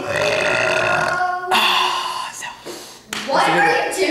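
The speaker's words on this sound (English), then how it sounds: "see how long I can burp or how loud I can burp" Loud close-up burps come in a few drawn-out, croaking bursts with brief pauses between them, from a person deliberately trying to burp long and loud.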